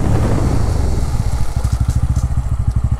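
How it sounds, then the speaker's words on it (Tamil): Bajaj Pulsar N160 motorcycle ridden on the road, its exhaust giving a steady, throbbing beat of evenly spaced low pulses that emerges clearly over wind noise. "அந்த எக்ஸாஸ்ட் பீட் உங்களுக்கு கேட்குதா?"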